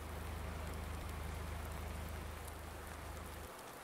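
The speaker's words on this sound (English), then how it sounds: "It's still raining." Continuous rainfall in Farming Simulator 19 on the Felsbrunn map, a thick, uniform patter of drops over a low droning hum that cuts out near the end, no voices.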